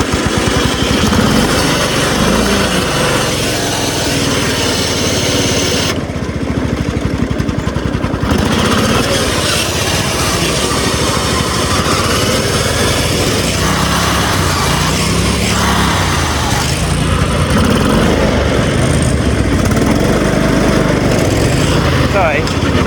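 A homemade racing lawn mower engine runs loud and close throughout, a rough, buzzing drone that rises and falls in pitch as it revs, with people talking over it.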